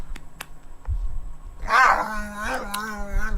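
A dog vocalizes up close with a drawn-out, whining howl-like sound lasting a couple of seconds, following a few faint clicks and soft thumps in a quiet room.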